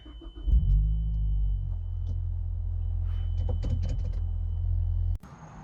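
Mazdaspeed car pulling away for a short drive, a steady low engine rumble with a brief rev near the start, running continuously before cutting off abruptly near the end.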